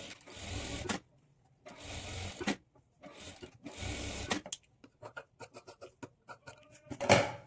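A sewing machine stitching a blouse sleeve runs in steady whirring bursts of about a second each, separated by short pauses. Near the end come quick fabric handling clicks and rustles, all close and fairly quiet.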